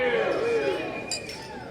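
Glasses clink together in a short, bright chime during a wedding toast for a couple, ringing over the murmur of guests talking nearby.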